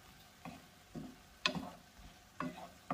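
Seasoned shrimp for a low-carb Mexican dish cook in a pan, a quiet background sizzle broken by four or five distinct scraping stirs or clinks at irregular intervals.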